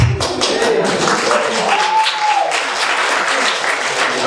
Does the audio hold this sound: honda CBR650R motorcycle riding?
no